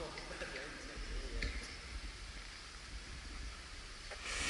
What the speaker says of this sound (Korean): 소나기 같아요.